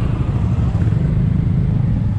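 Steady, loud motorcycle traffic rumbling along a busy street in Bogotá's motorcyclist district, lined with tire, parts and accessory shops, a continuous low engine drone with no clear individual passes.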